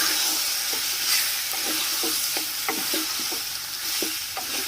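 Chicken curry being mixed in a pan with a spoon: repeated scraping and stirring strokes over a steady frying sizzle, close and fairly loud, with no voices.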